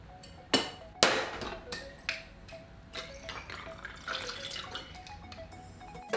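Liquor pours from a bottle through a pourer spout in a thin, trickling stream, punctuated by a few sharp clicks and glassy clinks, fairly faint and close with no speech.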